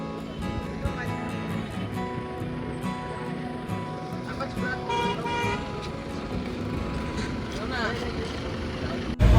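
Queued vehicles wait at a checkpoint on the Rishikesh road, horns tooting repeatedly over a dense bed of idling engines and traffic noise, fairly close and continuous.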